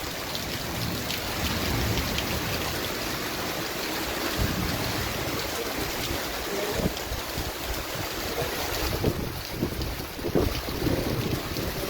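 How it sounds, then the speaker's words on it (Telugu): Heavy rain pours steadily and loudly on young coconut plants throughout, a dense wash of drops drumming on surfaces with gusts of wind noise. "See the full rain."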